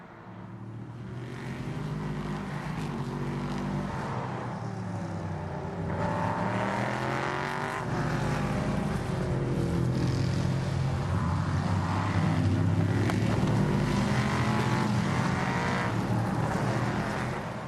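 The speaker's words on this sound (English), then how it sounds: "the safety car dives down through the roller coaster one more time and back onto the front straightaway" A safety car driving through a corner and downhill section at Virginia International Raceway, its engine a steady droning roar that rises and falls in pitch with throttle and gear changes, heard alone without commentary.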